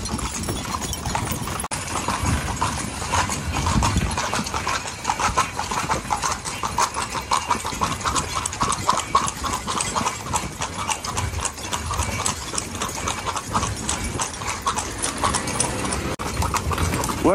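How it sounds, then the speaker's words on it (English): Horse hooves clip-clop steadily as a horse-drawn carriage rolls along near the Edfu temple in Aswan, Egypt, the rhythmic hoofbeats continuous and close over faint mechanical rattling of the carriage. "Are you driving this thing or is the horse?"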